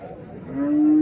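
A native Bangladeshi dairy cow gives one short, loud, close moo that rises into a sustained tone near the end.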